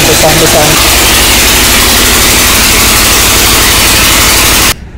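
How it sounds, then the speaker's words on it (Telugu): A generator runs close by during an overnight stop on a road trip from Hyderabad toward Ayodhya. It makes a loud, steady, noisy engine roar that cuts off abruptly at the end, and a voice talks over it briefly at the start. "వీళ్ళు జనరేటర్ ఆన్ చేసారు ఇక్కడ"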